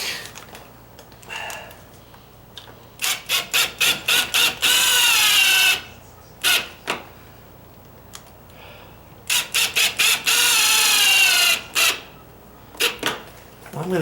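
A power driver runs screws into a deadbolt strike plate on a door jamb, giving two long bursts of loud, stuttering ratcheting whir, each led in by quick clicking pulses and followed by short taps, with quiet pauses between.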